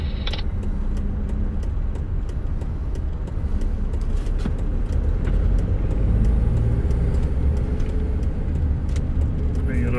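A white van rolls down the road with a low engine rumble and tyre noise that holds steady across the clip, with traffic and faint background chatter around it.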